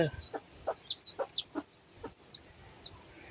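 Scattered soft clucks and peeping chirps from young fowl, a few high chirps repeating over a low outdoor background.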